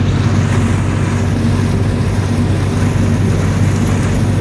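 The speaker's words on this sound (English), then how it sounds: "this tractor is literally spinning over nothing right now." John Deere 4440 tractor climbing a hill while stalk chopping, its old off-brand bias-ply tires spinning; a loud, steady engine drone with broad rumbling wheel noise runs unbroken throughout, with no talk.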